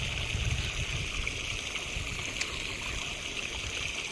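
Continuous rushing and trickling of irrigation water flowing steadily through a field channel into a mung bean crop, with no talk, just the even wash of a stream-like current.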